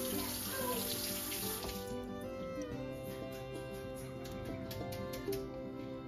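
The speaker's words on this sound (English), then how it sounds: "I'm going to rinse that off again." Tap water runs steadily over food being rinsed in a kitchen sink, a continuous close splashing hiss with broad noise, while faint background sounds and soft clatter sit underneath.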